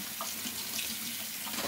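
A bathroom faucet runs steadily while waiting for hot water from the heater before shaving, a constant hiss of splashing water with no pauses.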